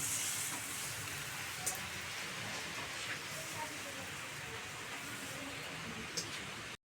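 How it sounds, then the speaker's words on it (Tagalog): Steady rain hisses across the whole stretch, a dense even wash with a few brief sharper ticks, no voices breaking through. "Malakas ang ulan itong mga idol."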